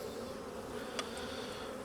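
Honeybees hum in an opened hive packed with capped and drone brood and emerging young bees, a dense steady close buzz with a faint tap partway through and no voices.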